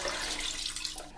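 Water runs steadily from a tap while veal is rinsed and drained, a continuous close hiss and splash that eases slightly at the end.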